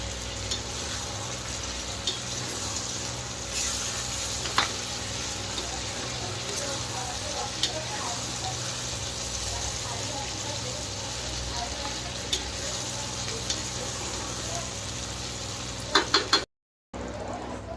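Mutton sizzles and fries continuously in a brass kadai, with a constant hiss and occasional clicks of stirring.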